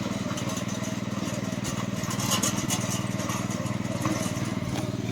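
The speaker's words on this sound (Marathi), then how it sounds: "ते बघा पुढे ट्रॅक्टर घेऊन गेलेत तिकडे त्या बाजूला." A tractor engine drones steadily on a green, rain-soaked farm field in the Konkan region, a low, even mechanical rumble heard from some distance with no change in pace.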